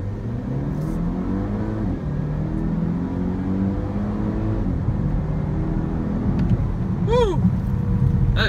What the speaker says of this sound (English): So now, how about we try the 0-60 time in the car?